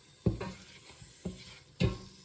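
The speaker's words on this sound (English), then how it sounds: "Stir them around for a few moments before we add the other ingredients." Onions fry in a pan with a low sizzle, while a spoon scrapes through them in three distinct stirring strokes, close and fairly quiet.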